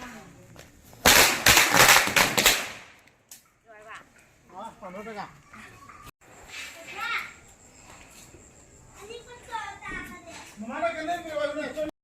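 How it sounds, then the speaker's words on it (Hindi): A firecracker bomb bursts during a Manipuri village Diwali celebration: a loud, dense crackle of rapid bangs lasting a couple of seconds, followed by quieter voices, children chattering and people talking nearby. "अभी बम, पहला वाला बम फुटाने वाला है"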